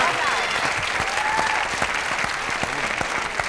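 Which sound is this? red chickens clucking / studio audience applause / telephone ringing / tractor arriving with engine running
studio audience applause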